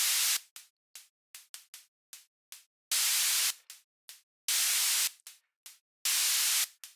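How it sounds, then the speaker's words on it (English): White noise from the B00GA microsound rhythm generator synth plugin comes in choppy, gated bursts. Rapid short hits alternate with longer sustained hissing blasts where legato slurs the triggers together, with silent gaps in between. "If I press legato, instead it will slur all those together and you'll get this sustained burst of noise"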